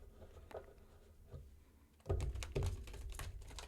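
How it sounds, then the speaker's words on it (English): Tarot cards being shuffled by hand, with soft riffling taps at first and then a louder run of quick flicks and thumps heard close up. "Let me shuffle these cards."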